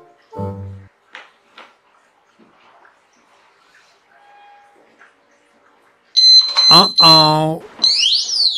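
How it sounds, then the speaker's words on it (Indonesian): A disc brake lock alarm on a motorcycle gives off a loud, warbling electronic siren close by, followed by rising chirps, after a few soft clicks and quiet handling noises. "Jadi gue proteksi dengan menggunakan alarm disc brake ini."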